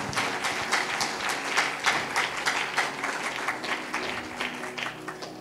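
A church congregation claps loudly and rhythmically during a sermon, a dense run of applause that keeps a steady beat for several seconds, with no voices over it.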